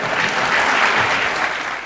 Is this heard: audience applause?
yes